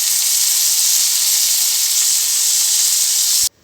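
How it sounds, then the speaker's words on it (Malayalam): Tomatoes sautéing with onions in a pan for a Chettinad chicken curry, a steady loud sizzle and hiss that holds evenly for several seconds, then cuts off abruptly. "നമ്മളിതിലേക്ക് ഒരു 3 തക്കാളി ചേർത്ത് വഴറ്റി കൊടുക്കുകയാണ്."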